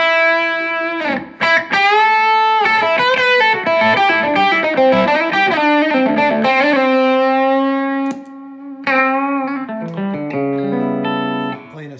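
Stratocaster through a Fender Deluxe Reverb amp with a modded TS9 808 overdrive at maximum gain, playing melodic lines and held notes with a gritty driven tone, loud and continuous with brief pauses.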